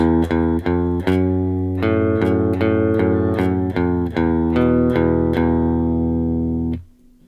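An electric guitar plays the opening riff of a song, plucked, sustained notes in a steady rhythm, ending on a held note that fades out.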